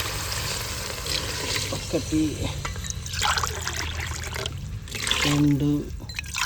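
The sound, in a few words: water being poured by the glass into cooking pot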